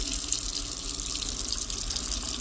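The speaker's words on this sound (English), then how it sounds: "Water pressure kind of sucks on this, but it's otherwise functional" A hotel room sink tap runs steadily, a continuous hiss and splash of water from a faucet filling the basin at close range with fairly weak pressure, no speech over it.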